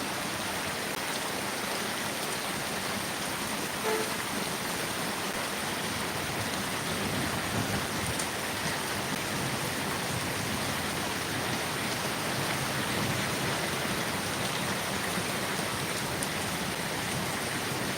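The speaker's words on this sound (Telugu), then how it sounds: "వర్షం" Steady rain falls in a dense, even hiss that stays constant throughout, with no voices or breaks.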